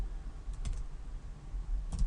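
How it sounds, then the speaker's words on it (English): Soft, close typing on a computer keyboard while entering HTML and PHP code, with a few scattered key clicks over low room hum and no talk. "I'm going to start typing an input tag"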